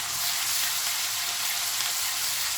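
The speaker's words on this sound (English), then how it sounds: "now I'm going to add the ginger garlic paste." Ginger garlic paste sizzles steadily in a hot pan of oil, a loud, continuous hiss of frying that holds unbroken throughout, close up and alone with no voices.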